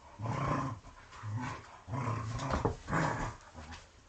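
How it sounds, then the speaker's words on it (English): Dogs growl while playing, rumbling in several long bursts with brief pauses between them, close and fairly loud, with no talk. "You dogs are ridiculous."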